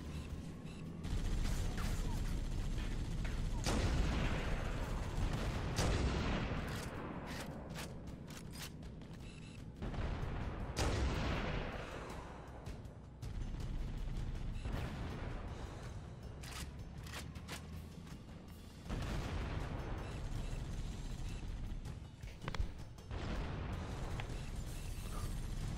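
Rapid gunfire and repeated booming explosions from the Halo video game, loud and dense throughout, with sharp bursts and heavy blasts recurring in clusters over a steady battle din.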